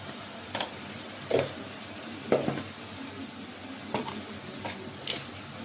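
Spices with fish and pumpkin stir-fry in a pan, a steady sizzle broken by about six scraping stirs of a spatula against the metal, close and clear with no talk.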